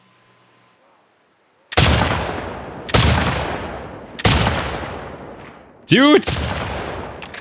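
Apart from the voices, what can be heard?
gunfire in video game The Last of Us Part II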